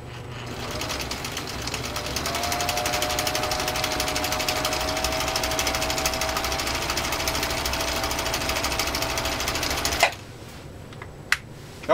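A Husqvarna Viking Type 21 sewing machine runs a steady, rapid stitch through three layers of genuine cowhide for about ten seconds, loud and continuous, then stops, leaving quiet with a couple of small clicks.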